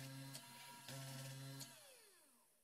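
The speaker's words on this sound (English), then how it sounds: "The V bit was changed to a drill bit to drill some small holes." An Eleksmaker Eleksmill CNC mill drills small holes with a drill bit, a steady whining motor tone broken by brief clicks and plunges, then spinning down at the end.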